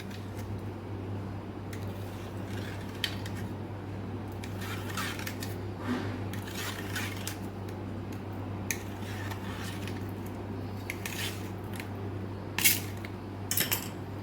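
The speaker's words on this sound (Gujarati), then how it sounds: "આડા ઊભા આપણે કાપા પાડી લઈશું" A knife taps and slices through soft rolled khandvi on a board, cutting it crosswise and lengthwise into bite-sized pieces, with scattered light clicks and soft squishy cuts over a steady low hum of kitchen background noise.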